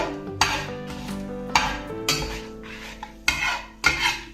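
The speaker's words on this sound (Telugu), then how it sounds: "చూసుకుంటూ ఫ్రై చేసుకుంటూ ఉండాలి." Cucumber chutney ingredients frying in a pan, with intermittent clattering bursts of a utensil stirring and scraping against the pan over a steady low sizzle, close and moderately loud.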